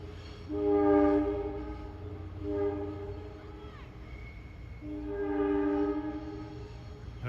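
A high-speed Acela Express train at Princeton Junction, New Jersey sounds its horn in three long, loud blasts over a low rumble of the passing train, with no talk.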